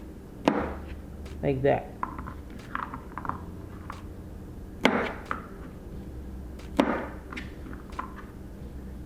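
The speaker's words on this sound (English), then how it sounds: "Now we're just going to trim them" Green beans trimmed with a knife on a board, several sharp chopping taps and thuds spaced out over several seconds, close by, with a voice briefly talking.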